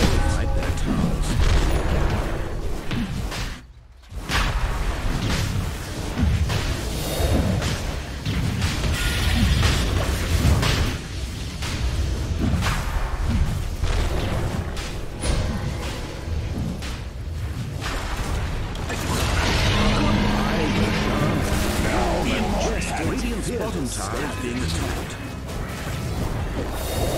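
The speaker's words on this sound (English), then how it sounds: "Radiant's bottom tower under fire." The Radiant bottom tower in Dota 2 is under attack, with a steady stream of booms and crashing impacts over busy game sounds and occasional voice lines, running continuously with one brief dip.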